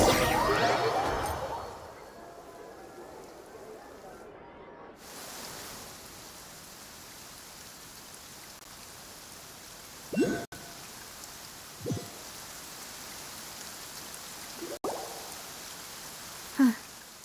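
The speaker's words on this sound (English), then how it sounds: "It's been raining non-stop." Steady rain falls in the game Genshin Impact, a soft, even hiss across the scene with occasional louder drips and plops, briefly masked by a louder rush at the start.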